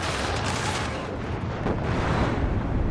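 Bombs from a cheap Milan bomber exploding in the video game WARNO, a dense, continuous rumble of blasts and crackling detonations, loud and sustained throughout.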